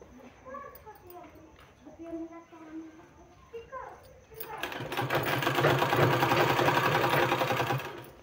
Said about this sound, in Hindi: इस तरह से हमने सिलाई करके रस्सी तैयार कर लिया है 2 कलर का।